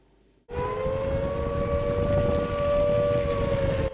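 An air raid siren wails steadily and loudly in a frontline Ukrainian town, starting abruptly after a quiet moment and holding a sustained, slightly wavering tone with wind-like noise beneath it.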